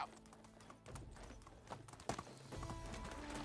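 A horse gallops in the medieval video game Medieval Dynasty, its hooves striking in a quick, irregular clip-clop that stays close and fairly loud, with no voices over it.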